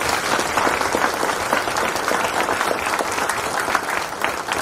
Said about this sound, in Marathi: या पद्धतीचं एक अलिखित वचन म्हणून आपण जोरदार टाळ्या देणार आहोत.